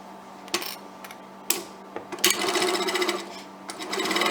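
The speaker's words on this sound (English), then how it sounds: "I'm going to sew at my 1/2 inch seam allowance." A sewing machine stitches a half-inch seam in fabric, starting with a few short stops and starts, then settling into a steady, close, rhythmic whirring run that fills the second half.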